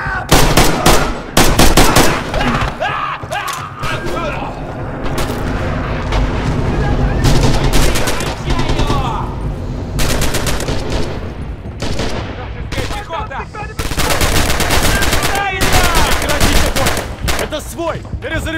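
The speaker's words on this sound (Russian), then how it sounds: "Берегись, по нам стреляют!" Dense World War II battle gunfire from Red Orchestra 2: Heroes of Stalingrad, with rifle shots and machine-gun bursts cracking loudly and almost continuously, and soldiers shouting beneath the din.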